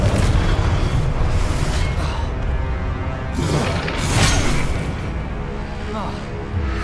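Loud booming blasts of the Confringo spell in Hogwarts Legacy video game, several heavy explosive bursts with crackling debris, dense and close throughout.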